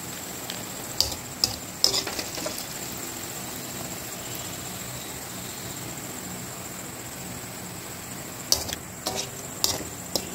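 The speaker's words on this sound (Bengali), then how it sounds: "এইবার ঝটপট বাদবাকি তালের বড়াগুলো ভেজে তোমাদেরকে দেখাচ্ছি।" Palm fritters (taler bora) deep-frying in hot oil give a steady, soft hiss throughout, broken by a few sharp pops and clicks near the start and again toward the end.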